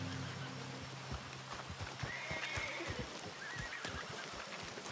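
A horse in Red Dead Redemption 2 gives a faint whinny over soft, irregular hoof clops and quiet background ambience.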